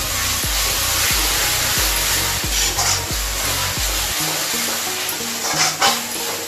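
Raw mango paste stirred into a masala frying in a pan gives a steady loud sizzle, with a run of soft scraping strokes early on and occasional clinks, and no talking.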